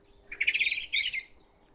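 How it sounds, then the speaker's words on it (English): A blackbird gives a loud, close alarm call in a garden, two quick bursts of sharp chattering notes heard alone with no other sound. "Oh, blackbird's complaining about something."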